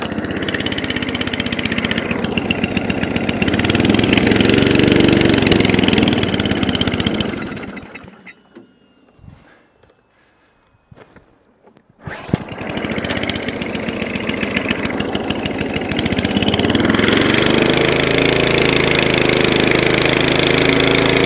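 An Atco Balmoral lawn mower engine idles on half choke with a loud, close, steady chugging that drops out to near silence for a few seconds midway, then resumes just as strongly.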